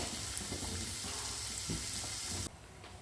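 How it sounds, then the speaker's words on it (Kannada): Food fries in a pan while being stirred, a steady close sizzle with occasional stirring scrapes, dropping to a softer hiss near the end. "ಚೆನ್ನಾಗಿ ತಿರುಗಿಸೋಣ ಸ್ವಲ್ಪ ಫ್ರೈ ಆಗಲಿ"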